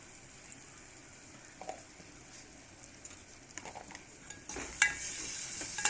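Chili powder and turmeric frying in hot oil in a pan for a drumstick curry, a soft sizzle with occasional stirring scrapes, growing louder and brighter toward the end.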